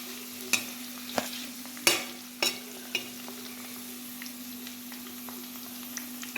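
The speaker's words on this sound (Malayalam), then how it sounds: "ഇതിലേക്ക് നമുക്ക് മുളക് ഇട്ട് കൊടുക്കാം അതിട്ട് കൊടു അതും ഇട്ട് കൊടുത്തിട്ട് നമുക്കൊന്ന് ഇളക്കാം" Dried red chillies stirred in a hot pan for a dried lemon pickle: a faint oily sizzle with a few sharp spoon knocks and scrapes spread irregularly across the pan, quiet and close, no voices.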